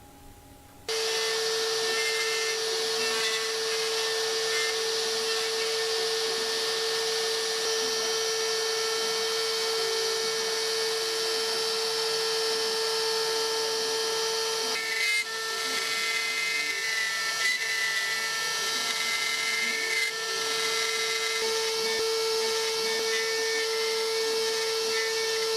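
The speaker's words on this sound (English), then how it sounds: "now we raise a bit, turn the spindle on, and then hit carve, and then we're working" An X-Carve CNC router spindle starts and carves wood, a sharp, steady high-pitched whine that kicks in after about a second and holds nearly constant, with slight cutting variations as the bit works the piece.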